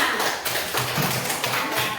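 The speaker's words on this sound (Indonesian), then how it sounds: "Ya, tepuk tangan semua." Scattered hand claps from children in a primary school classroom during a lesson, a few soft, uneven taps over a murmuring room background.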